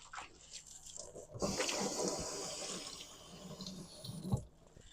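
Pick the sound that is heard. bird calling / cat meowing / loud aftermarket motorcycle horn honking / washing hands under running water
washing hands under running water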